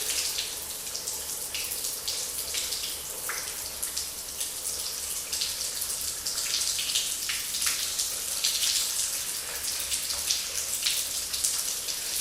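Cold shower water at about 10 degrees runs steadily and close by, a continuous hiss of spray with splashing droplets and no talking.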